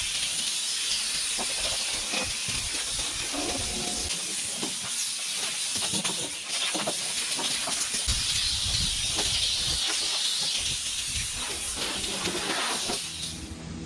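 Compressed air blows dust out of the bed of a 2019 Chevrolet Silverado RST Z71 pickup in a continuous loud hiss, with short bursts, knocks and rattles scattered through it.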